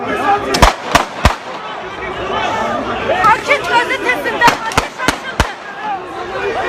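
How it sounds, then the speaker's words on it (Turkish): Several sharp gunshot cracks ring out in uneven bursts, loud and close, fired from the Vakit newspaper building, over anxious crowd chatter and shouting voices. "Bir anda silah sesleri yükseldi"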